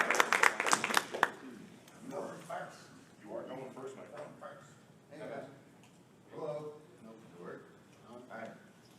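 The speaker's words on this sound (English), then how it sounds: "Give him a round of applause." An audience at a gaming convention panel gives a short burst of applause, loud claps for about a second that fade as people begin talking over the room.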